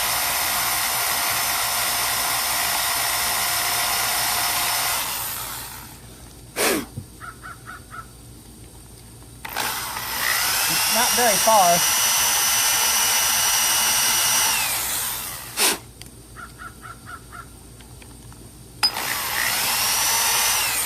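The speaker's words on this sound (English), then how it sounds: "I'm going to drill down like maybe 3/16 of an inch." A power drill whines loudly and steadily, stops, then runs again in long bursts, with brief faint talk in the quiet gaps.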